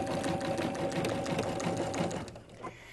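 A sewing machine stitching with thread fed from a thread tower, a steady fast mechanical whir and clatter close by that slows and drops off near the end.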